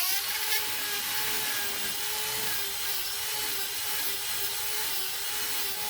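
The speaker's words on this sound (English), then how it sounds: "I sanded it in, and the lightest spots there, that's the seed." Sanding the hard coat of a tree seed, a steady abrasive rasping with a high whine, close and continuous, with no talk over it.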